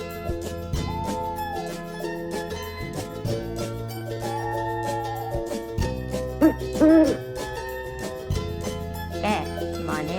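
An owl hoots softly in a children's animal-sounds lesson, a few low rounded calls heard over a steady music bed, fairly faint and partly masked by the tune.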